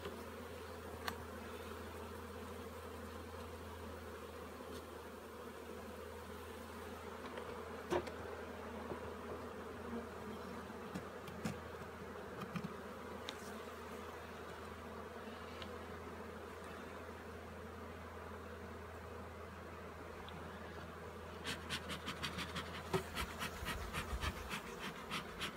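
Honey bees hum steadily around an open beehive during a first spring inspection, a low continuous drone with occasional louder passes and a burst of crackling near the end.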